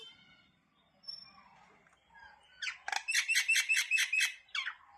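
A wild bird eating close by lets out a fast, bright run of repeated chirps, rising to a loud rhythmic burst of call notes after a few quieter, scattered sounds.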